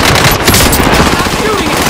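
Very loud, close automatic gunfire from Call of Duty: Modern Warfare: a continuous machine-gun burst with heavy low-frequency thump, dense and unbroken, with shouting voices partly mixed in.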